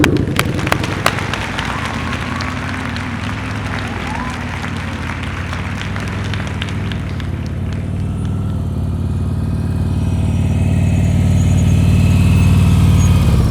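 A motorcycle engine idling and pulling gently during slow-speed riding practice, a steady low drone that grows slightly louder toward the end, with a few sharp clicks early on and an instructor talking over it.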